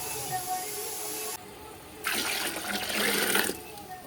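Water pours steadily into a pot of rice and lentils for a second or two, a broad splashing rush that stops, with faint room noise before it.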